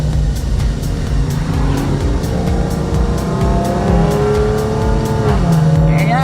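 A group of Maserati cars revs hard close by, engine notes climbing and falling in loud, overlapping sweeps that carry on without pause.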